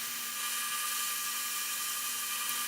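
A restored Atlas lathe turns a plumb bob under power feed, giving a steady, even high-pitched whine with a constant hum, close and uninterrupted, with no talk.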